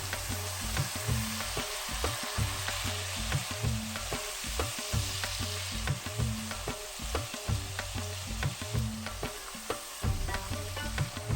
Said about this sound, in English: give it a stir and let it fry for about 2 minutes